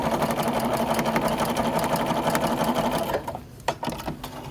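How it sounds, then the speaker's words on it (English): Sewing machine stitching a quilt binding seam, a steady rapid mechanical whir running continuously at close range, then stopping abruptly with a few short bursts and clicks. "so that I can stitch a straight seam at the point where they meet"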